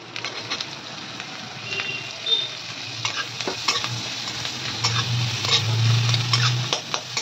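Chopped garlic, sliced ginger and chopped onion fry in hot oil in a pan, giving a steady close sizzle with scraping stirs and utensil knocks throughout.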